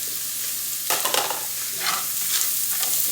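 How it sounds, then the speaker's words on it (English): Seasoning stirred into cabbage with onions and garlic in a pan, a soft constant sizzle with a few louder scraping stirs near the start and later on, no talking. "The seasoning, kind of mix it up."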